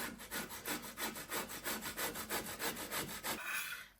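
Boiled carrot grated on the fine side of a hand grater for a mandarin-style salad, giving a steady run of about a dozen quick rhythmic scraping strokes, close and fairly loud, with no talk.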